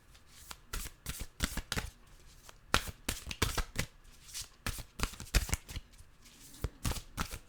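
Nature's Whispers oracle cards are shuffled by hand in quick, crisp riffles and flicks repeated throughout, close up and clear with no talking over them.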